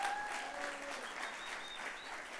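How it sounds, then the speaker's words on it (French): An audience claps warmly for a welcoming team on stage at a live French comedy show, a dense, steady applause that fills the room throughout. "Est-ce qu'on peut les applaudir bien fort?"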